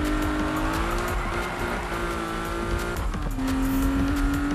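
Car drifting in the Need for Speed 2015 racing game, a sustained tire squeal over a loud revving engine whose pitch shifts as the slide continues, no voices.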